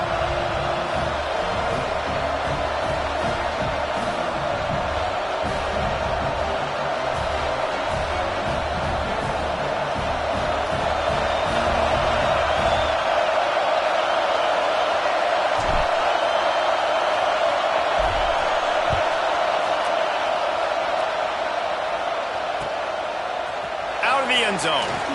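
Broad roar of a college football stadium crowd during an NCAA game, a steady wash of massed voices under a play-by-play commentator talking throughout.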